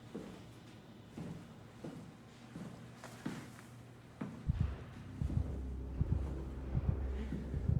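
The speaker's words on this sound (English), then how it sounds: "Why is my heart beating" Deep, rhythmic heartbeat thumps from the SOMA horror video game, starting faint and growing louder and heavier in the second half over a low ambient rumble.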